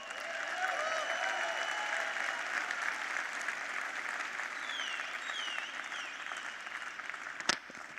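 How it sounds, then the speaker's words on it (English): Sustained applause from a crowd fills the space, steady and fairly loud, ending with a sharp knock near the close. "So, another round of applause for him."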